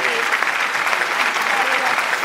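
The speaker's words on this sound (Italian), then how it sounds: "Diamo il benvenuto con un grandissimo applauso a Martina Smeraldi" A studio audience gives loud, continuous applause to welcome a guest, the clapping dense and steady across the whole short stretch with faint vocal cheers mixed in.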